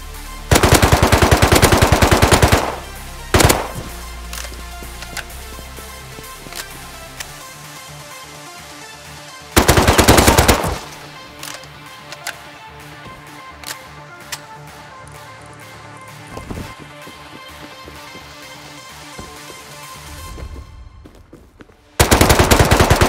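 AK rifle gunfire in the survival video game Rust, with loud, dense automatic bursts, the first two lasting a few seconds and a final one near the end, plus scattered single shots in between.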